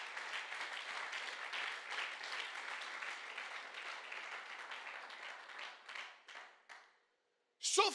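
A church congregation applauding the Lord during a French-language sermon: sustained, fairly soft clapping that thins out into a few scattered claps before a brief final burst of sound.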